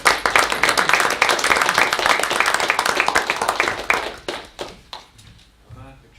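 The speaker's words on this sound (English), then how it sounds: "that certainly deserves a round of applause" Audience applause at a county fiscal court meeting, a small group clapping briskly for about four seconds, then thinning to scattered claps as voices talk over the fading sound.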